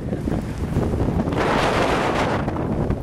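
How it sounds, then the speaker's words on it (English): Strong wind roars up a canyon in Zion National Park, a loud continuous buffeting rush against the microphone that swells and grows harsher midway through. "That wind is just funneling right up this canyon."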